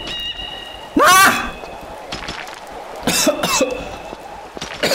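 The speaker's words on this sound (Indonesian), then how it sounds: "Batuk mah." Two loud, harsh coughs about two seconds apart in a Tomb Raider Chronicles game, with faint background sounds between them and no clear talking.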